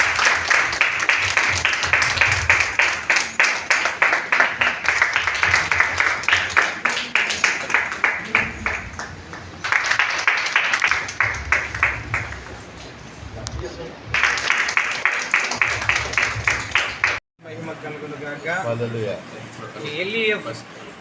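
Audience clapping hands at the opening of a Christian book exhibition, rhythmic applause in bursts, interrupted by stretches of someone speaking over a sound system, fading near the end under continued talk.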